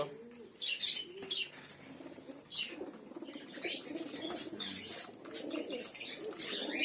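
Pigeons busy at their evening feed in a loft of Giribaz and Madrasi birds: several close chirps and coos with bursts of flapping wings over a steady shuffling murmur, no talking.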